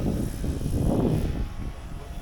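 A radio-controlled helicopter practising aerobatic loops buzzes with a steady rotor and engine drone that swells briefly and then eases off, close by, with no voices.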